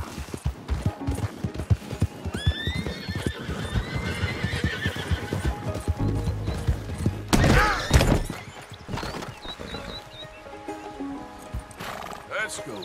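A horse in Red Dead Redemption 2 clops and gallops with steady hoofbeats, neighing and whinnying partway through, while people talk over the action.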